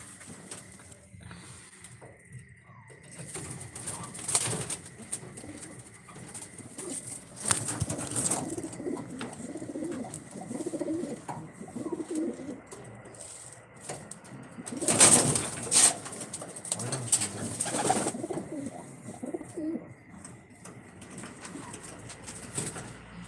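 Racing pigeons cooing in a loft, soft low coos recurring under a quiet background, with occasional bursts of wing flapping and scuffling, at moderate distance.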